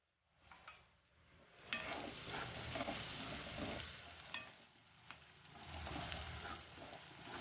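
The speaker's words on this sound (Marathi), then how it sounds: "आपला कांदा भाजू येते" Chopped onion fries in a pan for a spicy aubergine and dried-fish curry, giving a soft, steady sizzle with occasional scraping stirs and light taps close by, and no voices.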